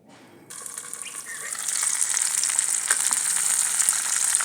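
Stuffed bitter gourd sizzles in a pan after a sudden start, the hiss of frying swelling and then holding steady and close.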